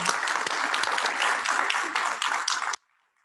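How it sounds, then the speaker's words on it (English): Warm, dense applause from a round-table audience at UC Merced thanking the panel, sustained clapping for almost three seconds before cutting off abruptly into silence. "So maybe one last round of applause."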